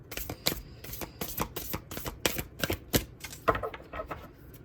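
A deck of tarot cards too big to hold easily is shuffled, giving a run of crisp, rapid riffling bursts and soft card slaps, close and fairly quiet, with no voices.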